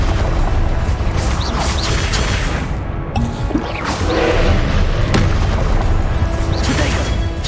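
Spell-combat impacts from the game Hogwarts Legacy land as heavy booms, crashes and whooshes over a continuous, loud battle rumble, with sharp hits scattered throughout and a brief dip near the middle.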